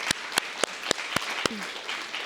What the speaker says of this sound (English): please join me in the biggest round of applause